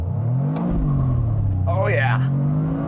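2025 Toyota GR Corolla hot hatch launching hard on a flat surface, a loud steady engine drone rising through the gears with a brief squeal near the upshift, while someone talks over it.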